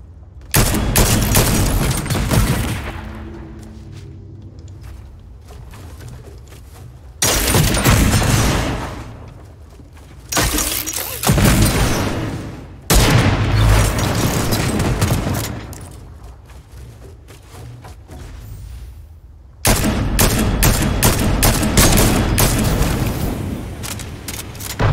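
Gunfire from a gun in Fortnite, loud bursts of rapid shots arriving in several separate volleys with short quieter gaps between them.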